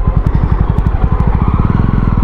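A Jawa 300 motorcycle rides through dense city traffic, its single-cylinder engine thumping in a loud, rapid, steady pulse close by, with light mechanical clatter over the low rumble.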